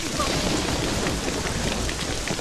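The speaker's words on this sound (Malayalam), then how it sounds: "നല്ല മഴയുടെ ലക്ഷണമുണ്ട്" Heavy rain pours in a scene from a Malayalam horror action film, a dense, loud, unbroken roar of falling water filling the full stretch without a pause.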